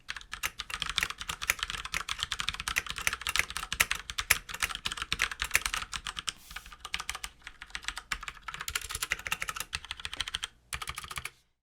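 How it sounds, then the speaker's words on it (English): Rapid, continuous typing on a Das Keyboard Prime 13 mechanical keyboard with Cherry MX Brown switches, heard close up as a dense patter of clicky keystrokes that stops abruptly at the end. No one speaks. "Here's a quick sound test for you guys of the Prime 13 with its Cherry MX Brown switches."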